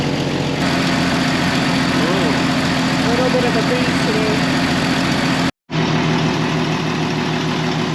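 A Jeep Wrangler engine idles close by, a low continuous rumble running under a person's casual remark, with a brief dropout near the end.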